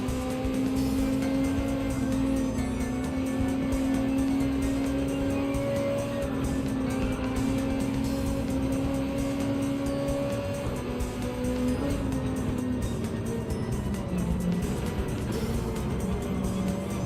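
Mitsubishi Lancer race cars roar around Mount Panorama in Gran Turismo 7, with loud, sustained engine drones that hold near-constant pitch and shift gently as they pass, with no break for the whole stretch.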